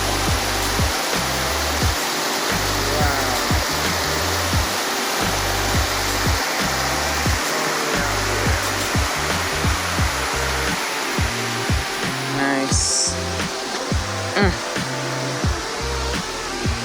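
Water rushes from the source of a stream on a nature walk near Arusha, Tanzania, where it flows under a road, a loud, constant broadband roar close by with no talk.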